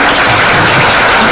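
Loud, dense audience applause fills a short burst after a talk on archives and the archivist's role at a public administration school, steady clapping from a crowd with no voices over it.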